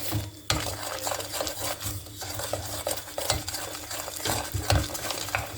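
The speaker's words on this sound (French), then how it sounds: "On va mélanger bien." Caramel mixture with butter for a salted-butter caramel brownie stirred in a pan, a soft bubbling hiss broken by repeated scraping and knocks of the spoon against the pan at an uneven pace.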